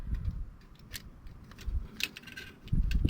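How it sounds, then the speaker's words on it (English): Pliers pulling a brake shoe spring on a Dodge Caliber, giving a few close, light metallic clinks and jangles with scraping handling noises between them, fairly quiet and without talk. "let's get a little help from the pliers"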